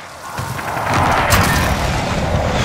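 A bomb goes off in a shooter video game, a loud booming blast that swells into a dense, rumbling roar with debris-like crackle and holds for a couple of seconds.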